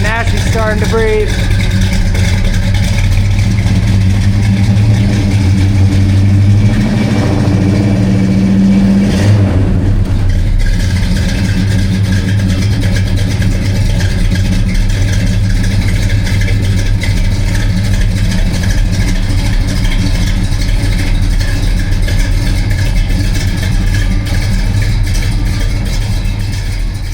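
A 1970 Plymouth Barracuda Grand Coupe convertible engine runs steadily throughout, a loud low rumble with a brief rise midway, while a voice talks over it.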